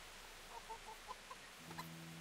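A handful of chickens cluck in short, separate bursts inside the medieval world of the video game Kingdom Come: Deliverance, sounding faint and fairly distant over a quiet background hum.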